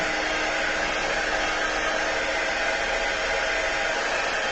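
A hair dryer runs steadily and close, drying a rustic handmade Christmas craft, its broad even whoosh holding constant throughout with no talk over it.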